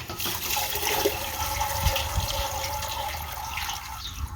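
Water drains steadily from freshly washed lettuce in a salad spinner, a continuous close trickling and splashing rush with a few small knocks, no voices over it.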